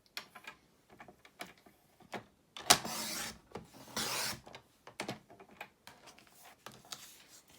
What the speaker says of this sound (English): lining it up in the track of my cutter, I'm going to cut from tip down to this tip